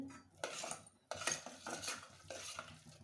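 Masala fries in a pan for an Andhra field bean curry while a metal spoon stirs it, producing repeated scraping clatters and clinks in bursts over a faint sizzle, close and quiet.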